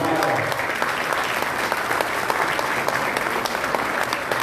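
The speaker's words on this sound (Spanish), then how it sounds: "Brindémosle un fuerte aplauso a la doctora." An audience at an international academic conference breaks into sustained, steady applause after a lecture, a dense even wash of many hands clapping with no voices on top.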